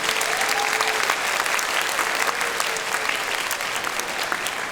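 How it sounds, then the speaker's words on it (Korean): An audience at the 22nd World Korean Language Speech Contest for foreigners breaks into dense, sustained applause, a steady roar of many hands clapping with faint crowd voices mixed in. "그럼 박수 부탁드리겠습니다."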